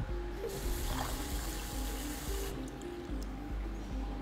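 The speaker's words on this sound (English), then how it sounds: "We're gonna add a cup of water" Water pours into a cooking pot holding half a cup of oats, a steady trickling fill with faint clinks, heard close with no talking.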